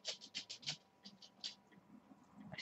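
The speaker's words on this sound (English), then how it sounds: "The clicking noise you can hear in the background is Muttley on the floor." Light clicking taps in quick irregular bursts, close by, of a dog's claws ticking across a hard floor, with a soft scraping texture between them.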